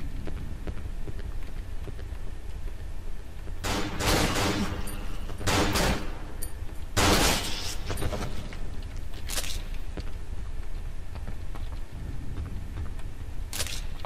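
Gunfire in the Cry of Fear horror video game: several sharp broadband shots, a pair near four seconds and more around five to seven seconds, then isolated reports later, over a steady low background drone.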